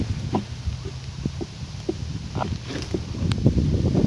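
Wind gusts roughly over the microphone outdoors beside a deep, dug-out pond used for fishing in rural Thailand, with low rumbling buffets and a few faint knocks, no talk.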